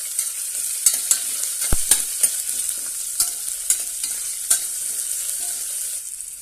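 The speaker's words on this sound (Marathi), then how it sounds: "आता त्यामध्ये एक कांदा उभा चिरलेला आहे तो घालूया आणि छानपैकी परतून घेऊया" Sliced onion fries in a pan for moong pulao, a close bright sizzle broken by repeated clinks and scrapes of a spatula stirring, with no talking.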